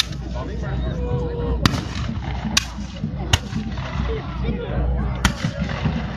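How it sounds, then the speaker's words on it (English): Musket volleys at a 1627 battle reenactment in the Netherlands: four or five sharp, distant cracks spaced a second or so apart over a busy outdoor crowd murmur, with occasional voices. "These are the muskets. They're firing, the small ones."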